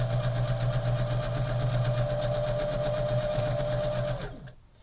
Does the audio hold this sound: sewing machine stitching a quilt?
yes